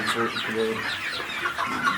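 Sonali chickens on a poultry farm in Ghoraghat, Dinajpur, give several close, quick clucks in short bursts over faint background sound.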